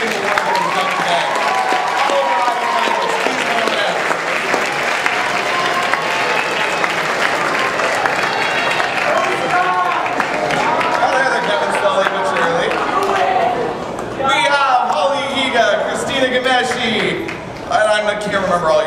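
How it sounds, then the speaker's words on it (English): Audience at an anime convention idol contest finale applauds the finalists on stage, clapping and cheering loudly, with voices mixed into the crowd noise and talk rising through the last seconds. "Audience, give them a big round of applause"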